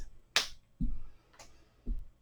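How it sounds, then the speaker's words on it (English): Hands clap under or beside the legs during seated chair tai chi, a few sharp isolated slaps spaced about half a second apart, close and clear in a quiet room. "clap underneath the legs or on the side of the legs"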